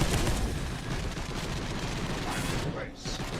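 Continuous heavy gunfire and blasts in the Warhammer Space Hulk video game, a dense, loud barrage rattling without pause for several seconds.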